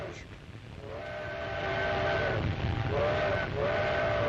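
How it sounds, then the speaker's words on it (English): A steam train rumbles steadily across desolate country in Ethiopia, 1935, while a steam whistle sounds in long sustained blasts, two or three times, loud and fairly close. "The train rattles across desolate country the Italians will have to fight across."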